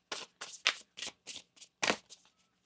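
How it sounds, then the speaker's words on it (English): Tarot cards being shuffled in a series of about eight quick, crisp riffling bursts, close and soft, with no talking. "One more shuffle."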